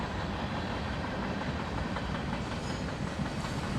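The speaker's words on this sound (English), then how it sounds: "More military transport vehicles on the empty coal train." An empty coal train carrying military transport vehicles rolls past in a continuous dense rumble and roar, steady throughout with no voices.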